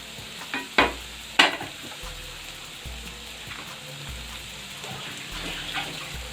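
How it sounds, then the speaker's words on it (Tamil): Squid fries steadily in a pan with masala, with a couple of sharp utensil clinks near the start and a low bubbling hiss throughout. "இப்போ வந்து இங்கே கனவா மீன் வெந்துட்டுருக்கு"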